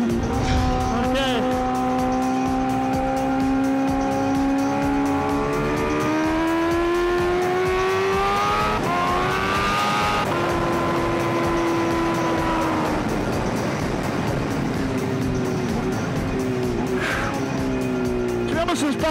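A Kawasaki H2R motorcycle screams around a race track, its engine note rising and falling through gear changes at high revs, loud and continuous throughout, with wind noise and a rider talking.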